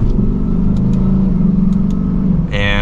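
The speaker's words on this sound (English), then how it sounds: "we can test the handling a little bit for this roundabout" Lexus RC F Blue Fuji Speedway Edition sports car heard from inside as it rounds a roundabout, a steady loud engine drone throughout with a brief brighter rise in revs near the end.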